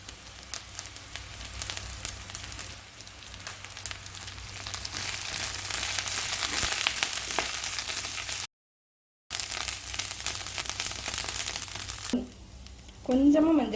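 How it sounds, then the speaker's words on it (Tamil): Agathi greens sauté in a pan, a faint crackling sizzle with rustling and crinkling as the leaves are turned, steady throughout with a brief gap and a louder burst near the end. "இப்போ கீரை சேர்த்து வதக்கலாம்."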